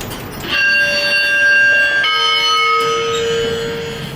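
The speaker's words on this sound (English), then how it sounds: "That is the most interesting chime that I've ever heard." A Schindler 3300 machine-room-less traction elevator sounds its chime: two loud, ringing electronic tones, the second lower and lingering, played close by with no talk.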